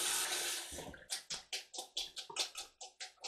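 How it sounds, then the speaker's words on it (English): Cold water poured onto cooked cauliflower in a kitchen: a steady rushing pour for about a second, then a run of short splashing bursts as the stream hits the florets, close and fairly loud. "So I'm just gonna put a little cold water onto the cauliflower."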